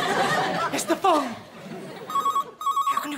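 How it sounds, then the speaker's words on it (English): A telephone rings in a comedy scene with a few short electronic trills near the end, following a stretch of talk and laughter, with brief pauses between rings. "It's the phone."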